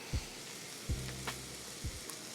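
Shallots and mushrooms sizzle softly in butter with a touch of avocado oil in a pan, a steady low hiss broken by a few brief stirring scrapes.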